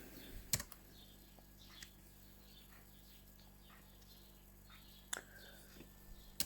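A terminal command typed on a computer keyboard in scattered light keystrokes, with a few sharper clicks near the start and end, faint and close in a quiet room with a low hum and no talk.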